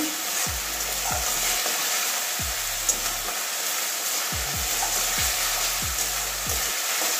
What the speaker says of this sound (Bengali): মশলার সঙ্গে কষিয়ে নিচ্ছি